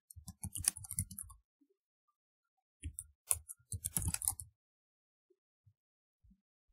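Typing on a computer keyboard, two bursts of rapid, close key clicks separated by a pause, with a few isolated taps trailing off into silence.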